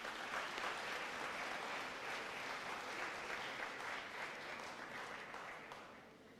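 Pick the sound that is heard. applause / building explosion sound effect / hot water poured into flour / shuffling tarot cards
applause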